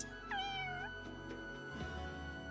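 Cat meowing in the Fire Emblem Engage video game, a single clear drawn-out meow standing alone over a steady low game-music bed.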